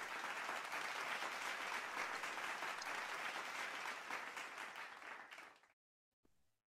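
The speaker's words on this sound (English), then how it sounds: "How about giving our ma'am Lorna another round of applause?" An audience at a school Science-Math-Technology Month culmination day applauds, dense steady clapping that tapers off, stops, then gives a brief faint patter.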